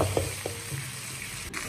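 Pan-fried tofu sizzles in a wok with chilli powder as it is tossed rather than stirred, a steady close frying hiss with a couple of brief clanks and shuffles early on, no talking.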